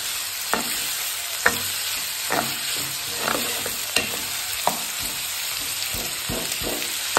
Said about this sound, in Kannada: ಸ್ವಲ್ಪ ಗೋಲ್ಡನ್ ಬ್ರೌನ್ ಆಗೋ ತರ ಸ್ವಲ್ಪ ಈರುಳ್ಳಿನ ಆಯಿಲ್ ಅಲ್ಲಿ ಫ್ರೈ ಮಾಡ್ಕೊಬೇಕು.